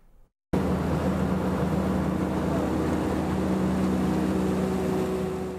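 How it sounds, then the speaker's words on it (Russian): Speedboats race along the Ural River, their propellers and engines making a loud, steady drone that holds close and constant throughout, with a faint hum of wind behind it. "Только вместо автомобилей здесь скоростные лодки, шум от винтов которых слышен за сотни метров."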